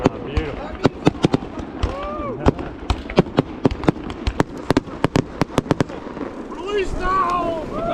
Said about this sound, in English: We're gonna go when the fireworks stop.